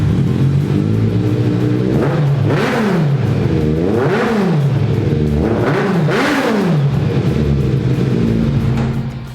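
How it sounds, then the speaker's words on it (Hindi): A superbike engine fitted with an aftermarket exhaust revs up and falls back in repeated strong bursts over a steady, deep idle, loud and close, with no talk. "इस बाइक की भी साउंड सुनो, ये भी बेस है, साउंड अच्छी है, बट आपको कानों में चुभेगी नहीं"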